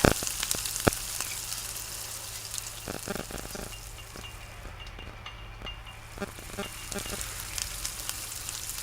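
Fennel seeds dry roasting in a pan for tea masala give a steady, soft rustling sizzle with scattered stirring clicks, fairly quiet and continuous with no voices.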